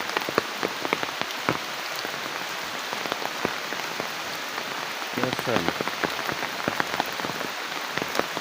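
Steady rain patters down on surfaces nonstop, with scattered drip impacts and someone speaking briefly over the downpour.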